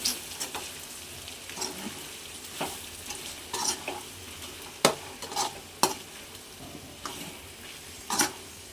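Spicy chicken fry with coriander being stirred in a pan, a steady close sizzle broken by repeated sharp scrapes and clacks of the spoon against the pan at irregular intervals.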